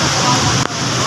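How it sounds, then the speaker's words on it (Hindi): Heavy rain pours down steadily in a broad, loud hiss, with a brief dip near the end, during a monsoon downpour on a shopping trip outing. "यार बहुत तेज बारिश स्टार्ट हो गई है"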